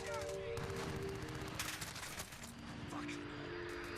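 Rapid bursts of automatic gunfire crackle through a Modern Warfare multiplayer match, loud and continuous with sharp individual shots layered over game noise, without clear speech.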